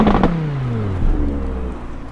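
2018 Audi R8 5.2 V10 Plus Quattro revved while parked: a sharp blip at the start, then the engine note falls smoothly back toward idle, close and fairly loud, with a second smaller rise partway through.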